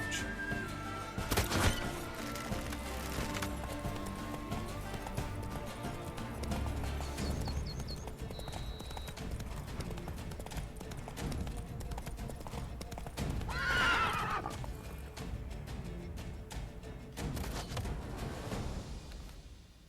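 In The Witcher 3 video game, a horse's hooves clip-clop rapidly at a gallop for the whole stretch, broken by a loud neigh partway through, with game sounds around it.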